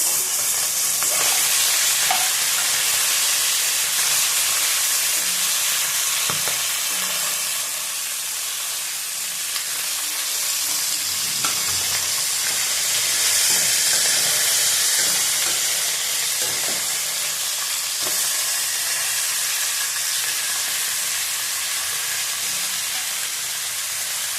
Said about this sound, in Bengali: ভালো করে ভেজে নেবো আবার মশলাটা দিয়ে নেবো